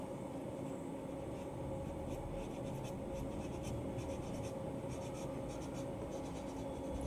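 Soft pastel in cobalt blue stroked onto paper, a continuous faint scratchy rasp of repeated strokes under a steady low background hum, with no talking.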